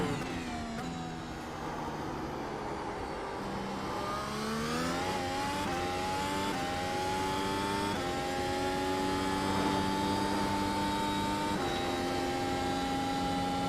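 A Super Formula race car engine at Suzuka in iRacing, revving hard under acceleration with rising and falling pitch through gear changes, loud and close, with a steady whining drone throughout.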